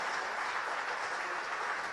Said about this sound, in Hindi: सबसे पहले जोरदार तालियां हरियाणा के यशस्वी मुख्यमंत्री श्री नायब सैनी जी के लिए।